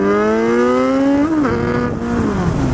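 A 2019 Kawasaki Z900 motorcycle accelerating in second gear at about 30 mph near 4,000 RPM, a loud, close engine note climbing steadily in pitch, briefly dipping around a shift or throttle change, then holding.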